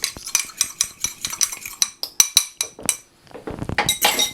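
A utensil briskly stirs egg wash thinned with buttermilk for scones, making a quick run of sharp, close clinks against the bowl, a brief pause, then a denser burst of scraping taps.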